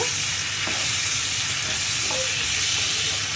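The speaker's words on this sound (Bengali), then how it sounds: "একটু এগুলো ভেজে নিই" Chopped pieces fry with shrimp in a pan, giving a loud, steady sizzle and hiss throughout, with a few faint scrapes of stirring and no talking.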